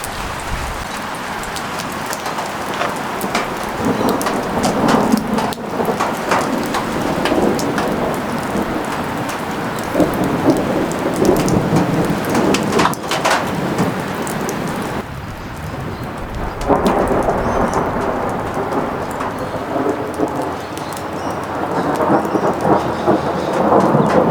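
Thunder rolls in long, loud rumbles through a storm over Lake Illawarra, New South Wales, Australia, with steady heavy rain pattering on surfaces close by and no voices.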